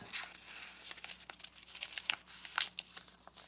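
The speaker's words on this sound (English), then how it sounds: "let's tuck this flap into this pocket" Paper folded and tucked by hand for an origami flasher envelope, giving close crisp crinkles and rustles in irregular bursts with sharper snaps, and no speech.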